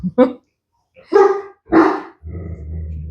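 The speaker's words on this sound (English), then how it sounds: "The dogs are having a tantrum" Dogs barking nearby in a few sharp, loud barks spaced apart, followed by a low growl, with no talking.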